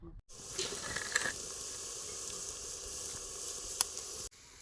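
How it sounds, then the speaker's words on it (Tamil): Onions sizzle and fry in a pan for a Chettinad pepper chicken gravy, a steady close hiss with faint clinks, alone without talk. "பொன்னிறமா வெங்காயம் வதங்கிருச்சு, தக்காளி சேர்த்துக்கிறோம்"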